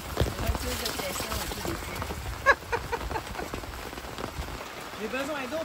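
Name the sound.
rain falling on a campsite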